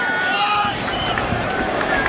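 Steady roar of a large football stadium crowd in Foxborough during a 2001 World Cup qualifier between the United States and Jamaica, a dense distant murmur running under close commentary.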